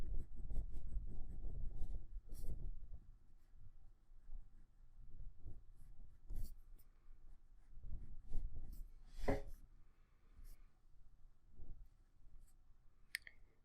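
Faint, quick scratchy strokes of a colored pencil on paper as streaks are added to a butterfly drawing, coming in short irregular bursts with brief pauses and no talking.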